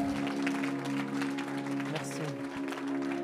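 A church congregation applauds and cheers for Jesus at a worship gathering, steady clapping sustained under a held keyboard chord while a voice speaks briefly over it.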